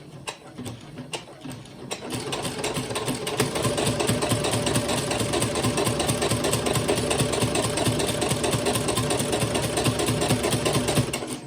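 A sewing machine stitching a quilt runs steadily and close by, a fast even mechanical whir after a brief quieter start, continuing without pause to the end.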